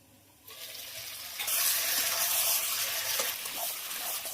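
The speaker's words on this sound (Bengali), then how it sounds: "চিকেনটা দিয়ে খুব ভালো করে নাড়বো কষানোর জন্য" Chicken stirred and sautéed in a pan for chicken do pyaza, a steady broad sizzle that rises sharply after a quiet start and then holds loud and even, with faint scraping, and no voices.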